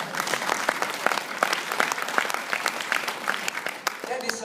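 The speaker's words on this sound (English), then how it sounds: "could you give me some applause?" A conference audience at a government event on the services sector claps in response to a speaker, with distinct individual claps forming moderately dense applause and a voice faintly present.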